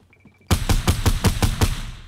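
Video game gunfire: after a brief quiet tone, a sudden burst of about seven evenly spaced, punchy shots rings out close and loud, each decaying into the next.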